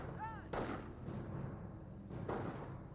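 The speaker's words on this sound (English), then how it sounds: "The grenade has been thrown, gains some good damage there." Grenade explosions in the Company of Heroes game, two or three muffled booming blasts with a whistling sound before the first, distant and faint under battlefield noise.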